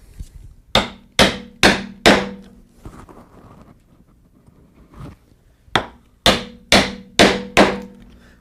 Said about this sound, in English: we start coming back along the mortise like so, a couple of good bangs each time